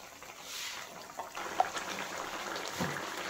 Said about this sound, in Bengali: দেখুন বন্ধুরা মাছের ঝোলটা ফুটতে শুরু করেছে।